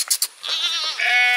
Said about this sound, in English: The sheep out there yelling at us, but it's not time yet.